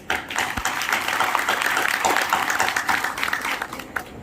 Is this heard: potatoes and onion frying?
no